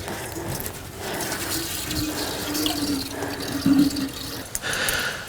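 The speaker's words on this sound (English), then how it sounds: "now I'm just gonna water it in" Water poured onto a newly planted tree in a garden to settle it in: a steady close splashing and gushing flow running throughout, with a few brief rattling, clicking handling noises.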